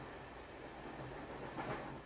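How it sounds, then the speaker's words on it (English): A train rumbles along at a distance, a faint, steady hiss and drone with a slight swell near the end and no voices. "Some people go by train."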